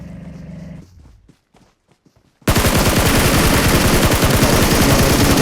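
A quiet stretch with faint shuffling and light footsteps gives way to a sudden loud burst of sustained automatic gunfire in PUBG Mobile, rapid shots hammering close and continuous to the end.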